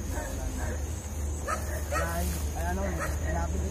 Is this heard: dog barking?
yes